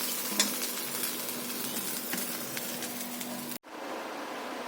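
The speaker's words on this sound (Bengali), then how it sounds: "মাছগুলো ভেজে নিই।" Fish sizzling steadily as it fries in hot oil, a close, even crackle with a few scraping stirs, briefly cut off near the end before the frying resumes.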